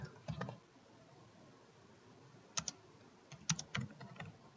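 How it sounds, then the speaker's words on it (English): Computer keyboard typed on in short, scattered bursts of light clicks, close and quiet, with pauses between the keystrokes and no talk. "Let's type it in right here."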